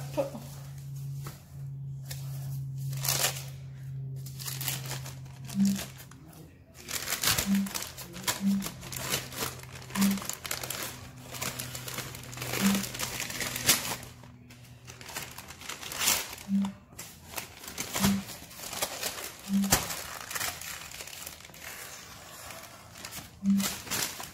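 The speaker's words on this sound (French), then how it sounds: "Donc là, je déballe mon beurre." Butter is unwrapped from its paper wrapper in a kitchen, with intermittent close crinkling and rustling of paper and some soft taps, while a person talks throughout.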